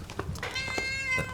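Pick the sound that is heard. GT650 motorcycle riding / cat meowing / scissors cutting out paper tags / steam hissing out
cat meowing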